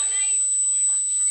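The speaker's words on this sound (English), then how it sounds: "what is that beeping? It's beeping a lot." A shrill electronic alarm tone sounds continuously and insistently, with people talking over it.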